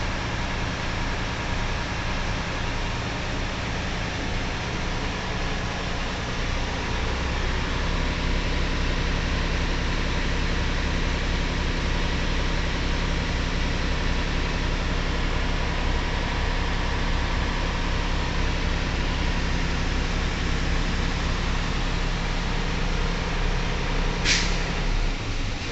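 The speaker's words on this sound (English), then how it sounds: "I'm going to speed up the process by accelerating between 1100 and 1300 RPMs" A truck engine revs steadily at a fast idle inside the cab to build air brake pressure. It is a continuous broadband drone that stays loud and unbroken throughout, with one short sharp hiss near the end.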